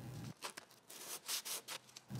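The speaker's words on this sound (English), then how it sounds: "On the flat part, I use a very fine sandpaper." Light hand sanding of a flat wooden part of an intarsia medicine cabinet door with very fine sandpaper, soft scratchy rubbing strokes in short bursts, close and quiet.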